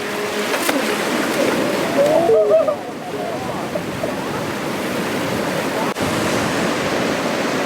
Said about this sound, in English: Here we go, RC surfer, charging down the river.